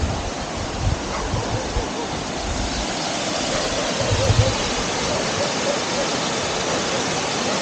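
A river rushes beneath a small village bridge in central Portugal, a steady broadband roar of flowing water that stays constant and fairly close throughout.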